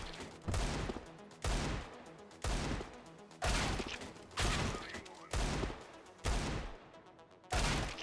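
Desert Eagle pistol shots in CS:GO, about eight loud single shots spaced roughly one second apart, each a sharp crack with a short decaying tail.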